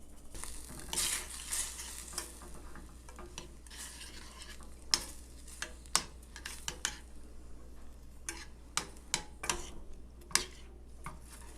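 A spoon repeatedly scrapes and taps a pan while an egg and chopped broccoli scramble with pepper is stirred, with irregular close clinks over a faint steady sizzle, no talking.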